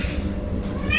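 A house cat meows close by, a short plaintive call rising near the end over a steady background murmur, with a person talking around it.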